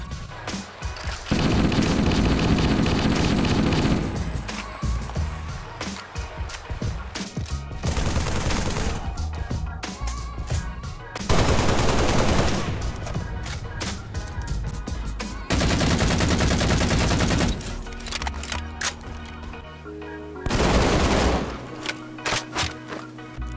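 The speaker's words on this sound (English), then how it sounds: "The assault rifle, for instance, in every single Halo game is clearly magazine fed." An assault rifle from the Halo games fires in long rapid automatic bursts, loud and close, broken by short pauses between strings of shots, with no talking over the gunfire.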